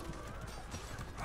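Horse hooves in the medieval combat game Mordhau, a quick run of clip-clop hoof thuds close by in a brief burst, with a faint whinny-like cry.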